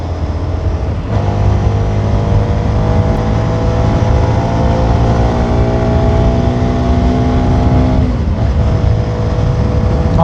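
A 250cc motorcycle engine runs steadily close by, a full throaty rumble with a slight rise and fall in pitch partway through.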